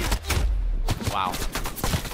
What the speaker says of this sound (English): Oh, I got deleted by that assault rifle.